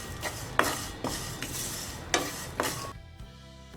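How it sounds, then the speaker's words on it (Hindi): A spoon scraping and stirring a spice masala with black pepper as it dry-roasts in a pan, several close rhythmic strokes over a soft sizzle before the sound drops away at the end. "अब सभी चीज़ों को हम मिला लेंगे अच्छे से और करीबन 3 मिनट तक हम इसे भूनेंगे।"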